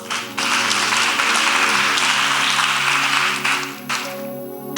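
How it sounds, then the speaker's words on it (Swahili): A church congregation applauding the Lord during a sermon, a loud, sustained wash of clapping from a large crowd that holds steady for several seconds before thinning out near the end, with no talk. "mpigie Bwana makofi"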